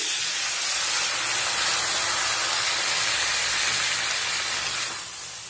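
A little water poured onto hot beans, potato and eggplant in a pan, producing a loud close continuous steamy hiss that fades slightly toward the end, with no talking.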